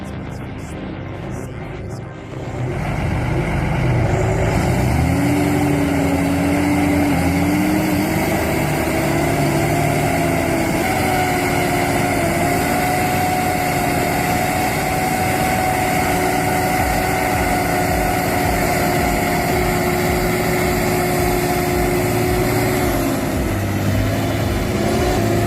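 Engine of a K700 or John Deere tractor running steadily at close range for the full length, a constant droning rumble with a sustained tonal whine, starting with a brief rough burst before settling into a loud, even hum.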